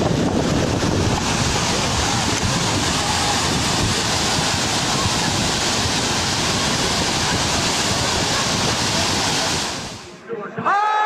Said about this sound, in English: violent muddy water surged through the channel and swept away multiple vehicles